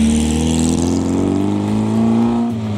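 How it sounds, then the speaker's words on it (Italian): A classic Porsche 356 pulls away at a Cisalpina Classic Race stage near the Gran San Bernardo, its engine droning steadily and rising in pitch as it accelerates, loud and close. "Mentre sta partendo la Porsche 356 di Magnoni Vanoni."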